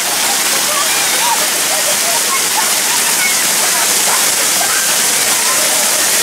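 Continuous loud rushing water at a Turkish hotel water park, a dense steady splashing wash with no pauses.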